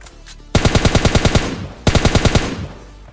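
Two loud bursts of rapid automatic gunfire in a first-person shooter video game, each a fast run of close, evenly spaced shots, separated by a brief pause.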